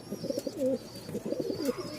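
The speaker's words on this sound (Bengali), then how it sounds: "এই যে ডাক শুরু হইল ফুল মুডে আছে কবুতরগুলা" Giribaz pigeons coo close by at a farm, soft throaty burbling calls repeating in two short bursts with no talking.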